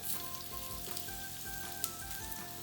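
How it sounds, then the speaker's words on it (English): Pieces of aloo wadi fry in hot oil with a continuous close sizzle and crackle, a dense hiss broken by small pops, with no one speaking. "Then place it in the oil one by one,"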